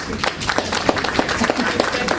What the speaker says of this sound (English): give all of you an amazing, amazing round of applause